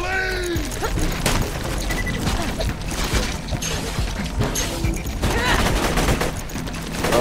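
Constant Borderlands 2 gunfire in a chaotic firefight, with rapid shots and bursts running the whole time and crashes and impacts mixed in. A player talks over the fighting.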